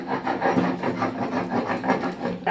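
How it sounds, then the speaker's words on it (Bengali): Steady rhythmic rasping of spices being ground on a stone grinding slab (shil) in a home kitchen, a close, continuous back-and-forth scraping with no talk. "অল্প স্বল্প কিছু হলে পরে আমি সাধারণত শিলে বেটে নিই"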